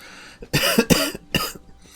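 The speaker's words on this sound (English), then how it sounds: "if I'm coughing a little bit more today" A person coughs in a few sharp, close bursts, two quick coughs followed by another after a short pause, with a quieter throat sound trailing at the end.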